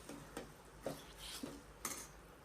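A spoon stirs an eggplant oro mixture with ghee in a pan, making about five soft metallic scrapes and clinks in an uneven rhythm, faint and close, with no talking.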